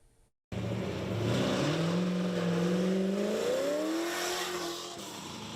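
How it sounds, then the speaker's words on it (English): Race car engine at the 2022 Pine Mountain Hill Climb in Bell County roars loudly, revving steadily upward through the gears in one continuous pass, close and alone without voices. "The sound of engines roared through the mountains as the 2022 Pine Mountain Hill Climb took place"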